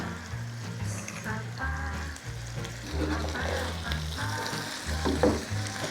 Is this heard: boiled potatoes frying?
yes